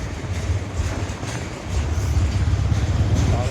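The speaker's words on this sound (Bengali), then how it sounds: "পাশাপাশি যাচ্ছি ট্রেন আর আমরা।" A freight train rolls past close alongside, a loud, steady rumble of wagons and wheels that grows slightly heavier midway, with no talk over it.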